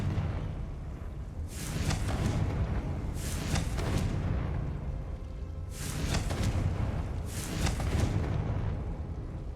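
Confringo spell blasts from the video game Hogwarts Legacy, four fiery bursts in two pairs with whooshing, crackling tails over a low rumbling background.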